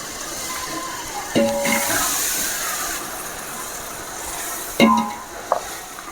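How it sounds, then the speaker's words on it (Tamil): Curd poured and stirred into sizzling chicken biryani masala in a large pot, a steady frying hiss with a few louder scraping stirs and clinks, no talk. "இப்போ நம்ம இதில் தயிரை ஊற்றிக்கலாம்."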